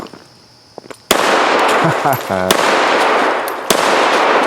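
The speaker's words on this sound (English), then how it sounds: "I like to shoot first and answer questions later" Two sharp gunshots from a small 1911-style handgun, loud and close, with a third shot near the end, between them an indoor echo and a brief shuffle of movement.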